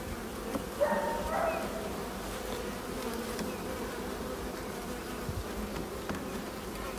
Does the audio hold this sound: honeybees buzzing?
yes